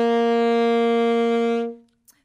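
An alto saxophone holds a single long G, steady and loud up close, then the note tapers off into silence, with no voices heard.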